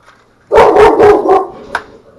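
Three dogs barking loudly and close, four quick barks in a row followed by a sharper yip, then quiet.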